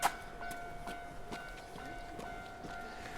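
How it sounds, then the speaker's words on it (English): A train runs past close to a small station in Japan, with a steady rumble, rhythmic clacking of wheels on the rail joints, and a sustained tonal hum or whine throughout, fairly faint and with no talk. "Oh no, we're going to see the train."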